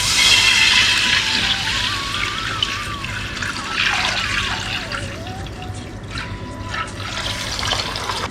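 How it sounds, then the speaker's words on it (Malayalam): Mixed milk pours from a container into a heavy cooking pot, or uruli, for parippu pradhaman, a continuous close liquid splash and gurgle that rises in pitch as the pot fills and then trails off. "2/4 പാലും 3/4 പാലും മിക്സ് ചെയ്തിട്ടുള്ളത് ഒഴിച്ചു"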